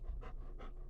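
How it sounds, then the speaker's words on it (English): A dog panting quietly in the background indoors, two quick breathy pants in a soft rhythm, faint and alone. "sorry if you hear dog noises in the background"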